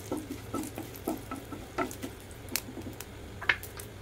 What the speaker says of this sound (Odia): ଟିକେ ଜିରାଟା ଫୁଟିଲା ପରେ